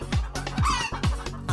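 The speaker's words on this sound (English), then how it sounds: "H for hen." A hen clucks in quick, repeated bursts, close and clear, about four short clucks with no talking.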